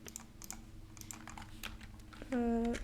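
Computer keyboard typing during a Minecraft crafting session, a loose run of quick, light key clicks at moderate level, with a brief tonal game sound near the end.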